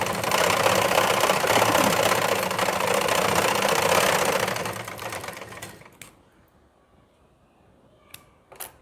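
A sewing machine runs fast and close, stitching a blouse seam with a dense, steady whir for about five seconds. It slows and stops, and a couple of faint clicks follow in the quiet.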